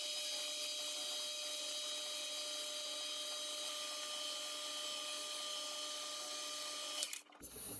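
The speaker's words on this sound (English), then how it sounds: "go through all the grits to get it sanded up and polished nice" A homemade competition spin top is sanded on a spinning machine, giving a steady high whine with a constant whirring tone that cuts off abruptly near the end.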